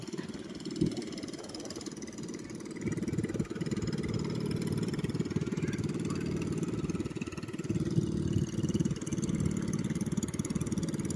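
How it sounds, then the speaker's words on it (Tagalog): Motorized fishing boats run on the broad river at Lumban, a steady mid-pitched engine hum with a faint pulsing rhythm, rising slightly after a few seconds and holding constant. "Yung mga bangkang de motor po sila."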